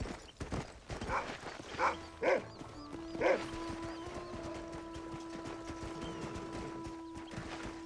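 A dog barks and yips in the Red Dead Redemption video game, a few sharp barks clustered in the first few seconds over clip-clopping hooves and quiet game ambience, then a sustained tone lingers.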